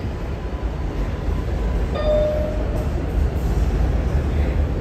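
A Manhattan-bound 7 local subway train, an R188, rumbles steadily along the tracks between stations, a low continuous roar with a brief tonal squeal in the middle, loud and close.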